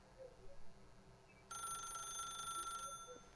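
An electronic telephone rings in The Stanley Parable, a bright, even buzzing ring that starts abruptly after a quiet stretch and holds steady for over a second before stopping, heard alone and fairly faint.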